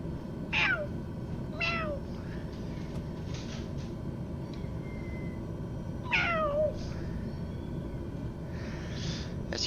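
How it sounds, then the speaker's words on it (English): Several cats meow loudly in another room, drawn-out calls in spaced bursts over a steady low hum with no talking. "That's your cats hollering at me, y'all."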